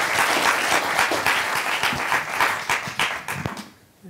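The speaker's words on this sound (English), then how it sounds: "a round of applause for the panelists and Professor Greenberg" Audience at a startup co-founders panel event applauds the panelists and a professor, a dense steady wash of many hands clapping that fades out near the end.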